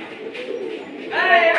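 A pair of Gorra pigeons cooing close by, soft low throaty coos followed by a brighter burst of bird calls near the end.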